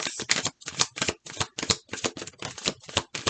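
Tarot cards shuffled by hand in a steady run of quick riffling bursts separated by brief pauses, close and fairly loud, with no voice over them.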